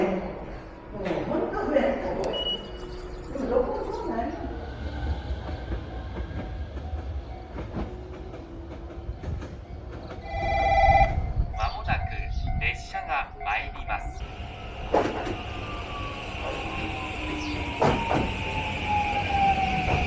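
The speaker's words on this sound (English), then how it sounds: "So right now we're riding on the Fukuoka Yutaka line." Interior ride on a Japanese train on the Fukuoka Yutaka line, a steady rumble of wheels on track with occasional rail clicks and clanks, constant throughout with faint background noise.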